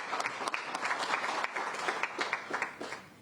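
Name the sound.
audience applause for the minister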